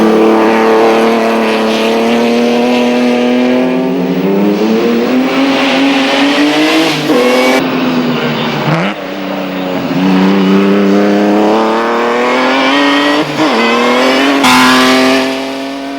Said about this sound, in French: faire entendre partout le bruit extraordinaire du compresseur de leur moteur